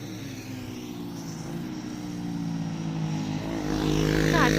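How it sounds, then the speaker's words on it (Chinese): Steady roar of road traffic beside a main road at Waimushan, Keelung: a continuous engine drone with tonal hum that swells louder toward the end as a vehicle approaches, with no voices. "因为这离大马路太近了，你看车声很吵。"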